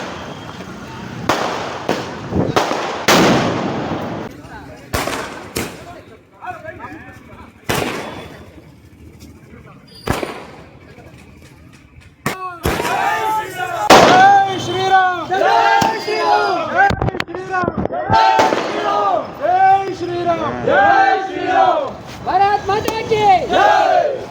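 Firecrackers burst by party workers celebrating a release from Parappana Agrahara jail in Bengaluru: a rapid, loud string of sharp cracks and bangs, some echoing, mixed with an excited crowd cheering and shouting.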